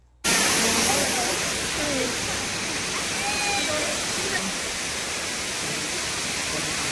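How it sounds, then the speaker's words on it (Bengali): A large waterfall beside a main road roars as a dense, constant rush of falling water, loud and close, starting abruptly and holding steady to the end. "পুরো একেবারে মেন রোডের ধারে একটা বিশাল বড় ঝর্ণা"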